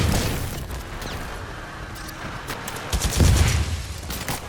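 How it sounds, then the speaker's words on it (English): A micro missile launcher fires in Titanfall 2, a dense, continuous barrage of whooshing launches and booming impacts with a heavier swell near the end, loud and without talk. "it's a micro missile launcher"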